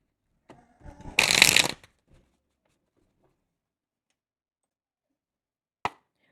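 A deck of tarot cards shuffled in one dense riffling burst of about a second, preceded by a few light card taps and followed by a single sharp tap near the end, close and otherwise quiet.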